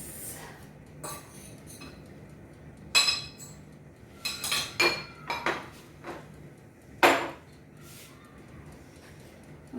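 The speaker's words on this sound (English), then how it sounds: "And in go our apples." Apple pieces tumble into a bowl of eggless apple and date cake batter, with scattered clinks and clatters of utensil against bowl, a few sharp knocks clustered in the middle and one last loud clink, no talk.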